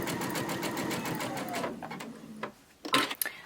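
A sewing machine running free-motion stitching on a quilt piece, with a fast steady whirr for nearly two seconds, then slowing and stopping before a few short bursts of stitching.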